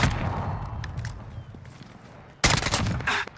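Semi-automatic SKS carbine fire in Call of Duty Modern Warfare: a burst of close, loud shots early on, then a second sharp volley near the end, with game ambience between.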